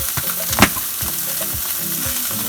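Pork sausages fry in a pan with a steady, dense sizzle and occasional sharp pops and spits, close and continuous with no voices.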